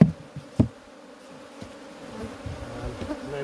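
Honey bee swarm buzzing steadily during a hive inspection, a close, continuous insect hum with a few sharp knocks from the hive frames near the start.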